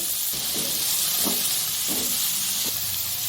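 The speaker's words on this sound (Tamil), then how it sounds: "நல்லா பொடியாக கட் பண்ணி நல்லா இதை வதக்கிடலாங்க நல்லா கோல்டன் ப்ரௌனாக வர அளவுக்கு இதை வதக்கிடலாங்க" Finely chopped shallots sauté in a pan until golden brown for Chettinad crab masala, producing a steady close hiss with a few soft, evenly spaced stirring knocks.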